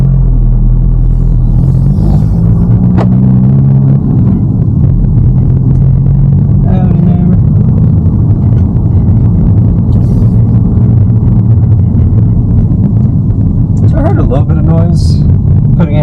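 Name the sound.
VW Mk8 GTI car engine pulling away at low RPM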